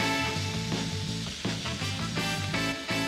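Vegetables with cherry tomatoes, thyme sprigs and a bay leaf sizzle steadily in a pan, a continuous close frying hiss beneath a faint background tone.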